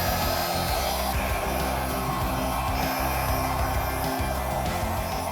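A steady, loud rush of blown air pours continuously over wet acrylic pour paint inside a ring, a constant hair-dryer-like roar filling the whole stretch with no voices.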